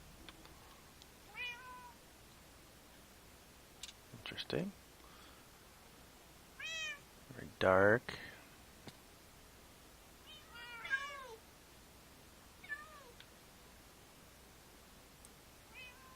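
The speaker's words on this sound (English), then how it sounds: "Okay, that thing's spawning cats." Cats meowing in a Minecraft modpack: several high, drawn-out in-game meows scattered across the stretch, with a few loud ones in the middle. A person talks briefly between them over a faint background hiss.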